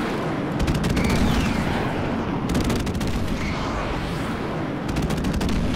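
Rapid, dense gunfire rattles steadily through a shooter video game firefight, loud and continuous with clustered bursts of shots and impacts layered over a heavy low rumble.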